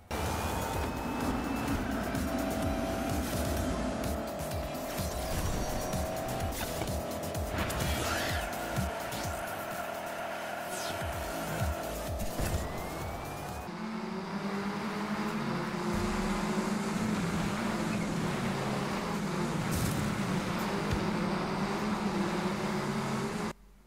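Engines roar in an arcade racing video game as overpowered rally cars, buggies and trucks tear across gravel, with repeated tire squeals and skids over a constant, loud engine drone that changes character partway through.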